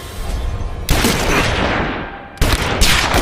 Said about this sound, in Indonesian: memicu baku tembak besar